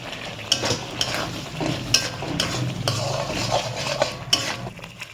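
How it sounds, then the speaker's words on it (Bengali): Spice masala with capsicum frying in a pan while a metal spoon stirs and scrapes, a close sizzle broken by repeated clinks and knocks against the pan, with no talk. "এবার আমি মশলাটা ভালো করে একটু কষিয়ে নেব।"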